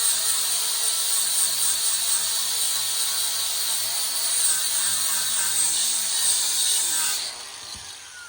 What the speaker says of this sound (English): I'll flat disc off that paint off there, so we're not burning through the paint